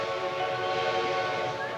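A steam-era train arriving at a small Western town station sounds a sustained whistle, a loud, steady tonal blast held through the clip with no talk.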